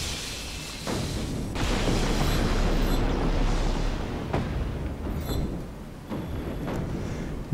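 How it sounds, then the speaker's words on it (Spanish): A large explosion in the open-world action game Just Cause 3, a dense sustained rumbling blast with crackling debris that swells and lingers for several seconds, followed by further thuds and bursts. "O sea, solamente la explosión que generó."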